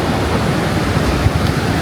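A river rushes past rocks in rural Canada, a loud, steady broadband wash of flowing water that fills the whole moment without a break, close to the listener and with no voices.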